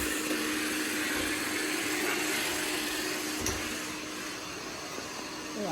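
iRobot Roomba Plus 507 combo robot vacuum cleaner running steadily, a continuous broadband whir with a constant motor hum, close and fairly loud, easing slightly softer toward the end.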